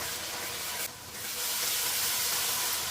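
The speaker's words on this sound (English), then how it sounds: "Stir the tomatoes constantly in the pot." Tomatoes for Cameroon jollof rice sizzle in a pot as they are stirred, giving a steady bright hiss that dips briefly once, then returns fuller, with no talking.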